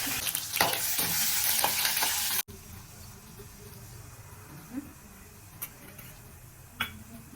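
Loud, hissing sizzle of spices frying in hot oil, which suddenly drops to a softer crackle with occasional clinks of a utensil against the pan.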